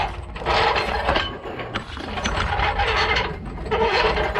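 A car jack is worked under a car, giving a steady, close ratcheting and grinding mechanical noise that continues throughout without any talk.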